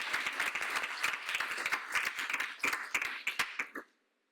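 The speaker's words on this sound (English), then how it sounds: "one round of applause" Crowd applause at a talk on luxury fashion and sustainability, a lively patter of many hands with sharp individual claps standing out, ending abruptly into silence after about four seconds.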